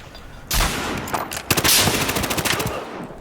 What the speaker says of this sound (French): Oula, je prends des tirs.